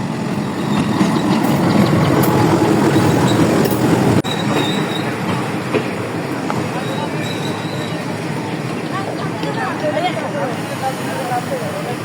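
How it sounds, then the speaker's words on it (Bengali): A train rolls into a busy railway station, loud and close, with a heavy rumble, wheel squeal and clatter. Crowd voices are mixed in as it slows. "গাইস দেখেন, ট্রেন চলে এসেছে।"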